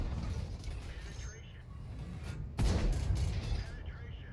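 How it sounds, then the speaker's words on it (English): A single sharp tank cannon blast in World of Tanks stands out midway over rumbling engine and battle noise, with someone talking throughout. "I'm getting shot up by other tanks"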